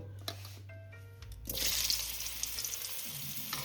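Pumpkin pieces tossed with turmeric dropped into hot oil for kumror chokka; after a quiet moment the frying erupts into a loud, close, bubbling sizzle that carries on steadily with no talk.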